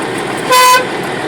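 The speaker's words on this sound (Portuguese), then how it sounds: "Tá buzinando, né?" A Scania 111 truck's horn gives one short, loud, steady honk lasting about a third of a second, set against a quiet background.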